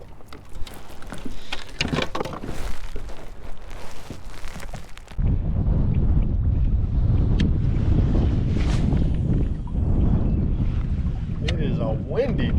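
Strong wind on a lake blows straight into the microphone, a loud, dense low roar that jumps to a heavier steady rush about halfway through and stays constant, with no voices.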